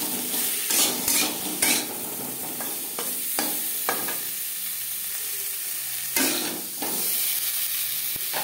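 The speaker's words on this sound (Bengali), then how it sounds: "আলু ভাজা হয়ে গেছে" Potatoes, partly boiled beforehand, fry in a pan with salt, a gentle continuous sizzle broken by repeated scrapes and clinks of a spatula stirring against the pan, close and moderately quiet.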